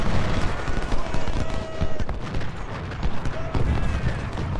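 Musket fire in Ultimate General: Civil War crackles as a dense, continuous rattle of distant volleys, mixed with hoofbeats and a busy battlefield din throughout.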